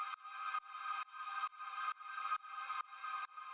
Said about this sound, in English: So then the final sound we have here is this pad